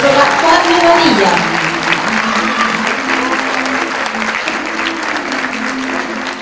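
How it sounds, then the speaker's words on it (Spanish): Audience applause at a school graduation ceremony honoring teachers, a steady, dense clapping throughout with a voice speaking over it early on. "Le brindamos también un fuerte aplauso a la profesora María Lorena Andrade, Alejandra Carrasco y también a la profesora Fatme Badilla."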